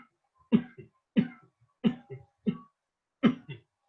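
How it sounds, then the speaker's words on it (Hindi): Deliberate coughs in a yoga breathing exercise come as six short, sharp bursts at a steady, even rhythm, close and clear against silence. "ये खांसी करते जाइए ऐसे।"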